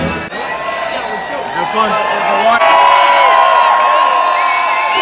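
A concert crowd cheers and shouts with high whoops and yells, loud, close and continuous. A few people nearby exchange brief words under the noise.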